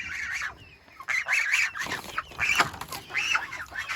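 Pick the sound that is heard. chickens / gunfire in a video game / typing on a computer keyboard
chickens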